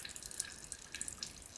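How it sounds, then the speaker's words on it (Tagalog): Oil drips from a part on a Toyota FJ Cruiser in a few faint, quick, irregular drops, heard close up against a quiet background. "Kakaunti na lang ang tumutulo."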